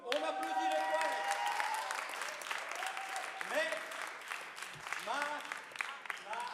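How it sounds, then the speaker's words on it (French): A crowd at a poetry slam applauds the poets with steady, dense clapping that fills the room throughout, while cheers and voices rise over it. "On applaudit les poètes."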